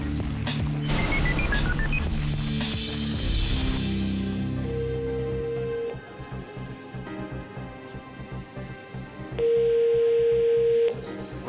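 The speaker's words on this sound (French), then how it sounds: "Il commence par un coup de téléphone au vendeur." Telephone call being placed to a house seller: dense music and noise first, then long steady dial tones stand out alone, a first tone around five to six seconds and a second near the end, with no talk.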